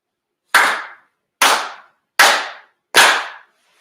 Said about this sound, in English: 祈祷拝礼 4 sincere claps.